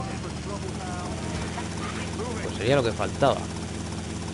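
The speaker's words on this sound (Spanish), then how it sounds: "Están robando el helicóptero." Helicopter in the GTA Vice City video game, a steady whirring rotor-and-engine drone that runs throughout, with someone speaking over it and a couple of louder voiced bursts near the end.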